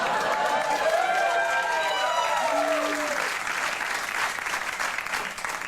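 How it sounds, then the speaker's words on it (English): Audience applause fills a backstage show setting, a steady dense clapping wash that holds loud throughout with faint cheering and scattered voices mixed in. "Thanks for applauding an obviously retouched photo."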